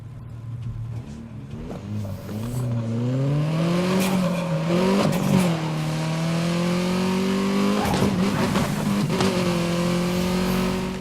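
A sports car engine in a racing game revs and shifts through gears, its tone rising in sweeping climbs with brief drops between, loud and close, no voices.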